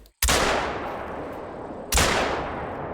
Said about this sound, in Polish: Spróbuję trzy jednym strzałem zgarnąć